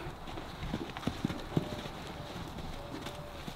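Horses moving about an arena, a few faint, scattered hoof clops over a steady outdoor background, with no clear rhythm.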